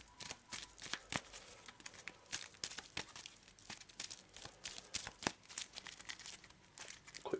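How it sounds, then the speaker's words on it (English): Board game cards shuffled by hand during a Shadows of Brimstone session, a run of quick crisp riffling bursts and papery snaps close up, steady and busy throughout with no talking. "So, quick shuffle."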